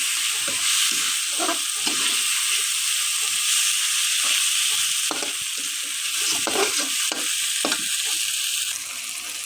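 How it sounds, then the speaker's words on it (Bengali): Fish frying in spiced oil in a pan, a loud continuous close sizzle with scattered scraping stirs throughout. "মাছগুলো দিয়ে দিই।"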